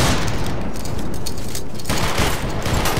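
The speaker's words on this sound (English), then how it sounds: "Company, make ready, take aim, fire." A musket volley in Battlegrounds 3 during a multi-clan line battle, a dense, continuous crackle of many shots merging into a loud, rolling roar.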